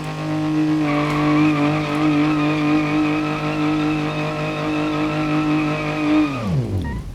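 A BMW E30 325 mod driven in BeamNG Drive, its engine holding a loud steady tone for several seconds before the revs drop sharply and fade near the end.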